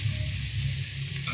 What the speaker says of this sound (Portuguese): Vou colocar também, ó, o alho e o azeite.